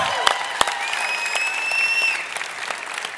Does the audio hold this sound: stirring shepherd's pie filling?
no